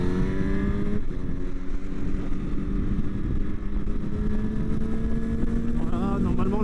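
A Honda Hornet 1000 SP motorcycle fitted with a quickshifter pulls out on a racetrack. Its engine drones loud and close, the pitch climbing steadily under heavy wind rush as the throttle opens.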